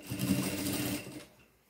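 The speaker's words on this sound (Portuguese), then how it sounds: "A gente passa uma costura bem na beiradinha," A sewing machine runs a quick stitch along the edge of a seam on pantacourt trousers, a steady close whirring burst of about a second that slows and stops, with no talking over it.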